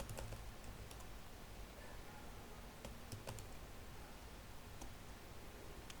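Fingers typing a name on a computer keyboard, a soft run of quiet clicks with a few sharper keystrokes scattered through, faint against a low room hiss, no talking.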